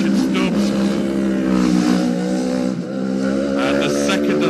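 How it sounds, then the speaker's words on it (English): Racing motorcycles in a Manx Grand Prix lightweight race approach as a loud, sustained engine roar that rises and shifts in pitch, with commentary speech running over it throughout. "I can hear lots of engine noise now. We've got something fairly loud approaching. We've got 2 bikes approaching."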